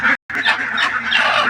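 Farmyard ducks honking loudly and close, a burst of nasal calls with a brief pause, then overlapping honks continuing without talk.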